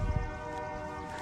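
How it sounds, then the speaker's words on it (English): A train horn sounds steadily at a street intersection, a sustained tonal blast with layered harmonics holding for over a second amid outdoor traffic rumble. "Train horn."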